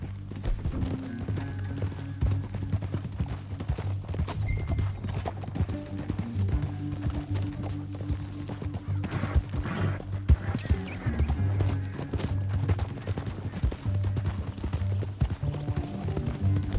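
Rapid hoofbeats of a galloping horse in the video game Red Dead Redemption 2, a steady driving clatter that holds throughout, with no one talking.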